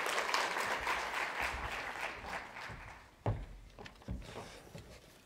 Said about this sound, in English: Please give a warm round of applause to the resident representative of the Hanns Seidel Foundation